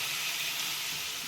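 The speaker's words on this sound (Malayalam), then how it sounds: "ശകലം തിളച്ചവെള്ളം ചേർക്കണം" Boiling water hits a hot prawn dish and sets off a brief, steady hissing sizzle, close and even, lasting about a second.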